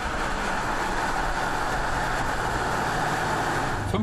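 A Porsche GTS engine pulls hard under an opened throttle, heard from inside the car as a steady, loud broadband roar that holds level for about four seconds with no voices.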